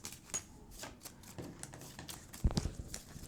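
A deck of playing cards is shuffled in a quiet room, giving soft, faint riffling flutters with a brief, sharper burst of card noise near the end.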